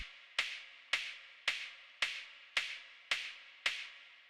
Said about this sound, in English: So I took a little hi-hat sample from the Limitless sample pack from Antodite